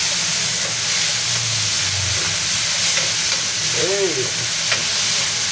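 Onions and tomatoes frying in a pan, a loud, steady sizzle with occasional spattering pops, close by, with a brief voice in the background.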